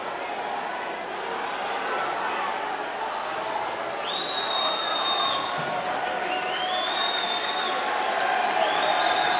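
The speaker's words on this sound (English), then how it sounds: "Listen to that crowd." Crowd noise fills a high school boys basketball gym, Minnehaha Academy against DeLaSalle, as a steady roar of cheering with whistle-like shouts rising midway, heard under continuous play-by-play commentary.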